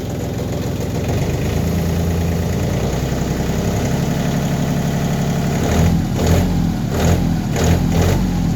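A low-hour tractor engine idles steadily up close, then revs in several short bursts toward the end.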